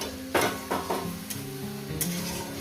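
Tomato and spice paste fries in a pan with a soft sizzle while a utensil scrapes and stirs, giving a few sharp clatters against the metal.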